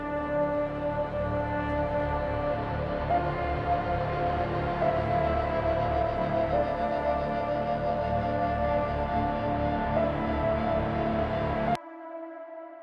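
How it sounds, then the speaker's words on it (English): Synth section from an epic hybrid trailer track: a dense, sustained layered synth texture with steady harmonic tones and constant loudness, stopping abruptly near the end into a thinner held tone. "let me show you this with the synth section"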